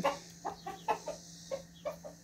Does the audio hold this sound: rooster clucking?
yes